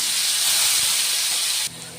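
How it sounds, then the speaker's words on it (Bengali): Sliced onions land in a pan of frying potatoes, giving a loud, close, steady sizzling hiss that eases slightly after a second and a half. "এরপর কেটে রাখা পেঁয়াজগুলো দিয়ে দিলাম"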